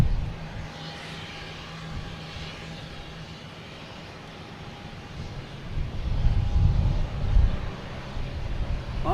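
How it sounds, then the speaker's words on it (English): A United Airlines Boeing 737-800 jet taking off at Boston Logan: a distant low engine roar that builds into a heavier rumble toward the end, with wind noise across the microphone. "Next taking off is United Airlines heading to Chicago."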